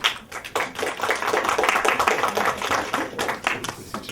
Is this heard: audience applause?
yes